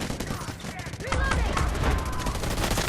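Gunfire in the mobile shooter Delta Force Mobile, published by Garena: repeated sharp shots and bursts crackle across the clip. They are layered with game effects and some faint voice, and grow louder and denser in the second half.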